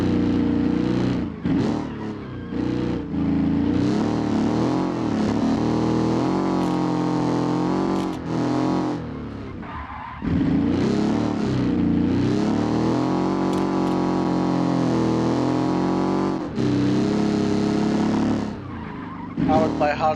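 A Harley Davidson-powered car in the Automation video game's 1949 roadster test, its engine revving hard through repeated rising sweeps with tire squeal, each run cut by brief drops as gears change.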